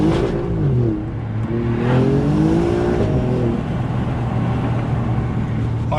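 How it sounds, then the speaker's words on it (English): A 2020 Alfa Romeo Giulia Quadrifoglio pulling hard in first gear, its exhaust note rising through a revving climb, easing off, then surging again under steady road roar. "I'll do it one more time for you with the window, so you hear a bit of exhaust noise"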